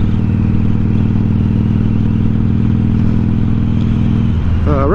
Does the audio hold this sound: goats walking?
no